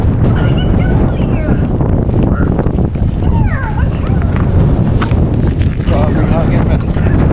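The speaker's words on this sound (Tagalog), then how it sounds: "Grabe hangin man." Strong blizzard wind buffeting loudly and constantly around an oversize-load truck, with people talking underneath and a dog whimpering at times.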